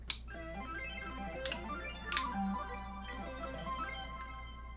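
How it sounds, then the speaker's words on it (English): A synth patch in Apple GarageBand, played with an AirHarp Pico controller, gives a few soft, bright tones that shimmer and overlap, quiet and without talk. "Let's try just some random synth sound here."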